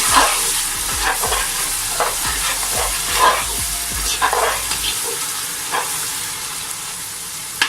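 Ginger garlic paste fries in a pan for a white bean lobiya curry, giving a steady sizzle broken by repeated scraping strokes of a spoon stirring it up close.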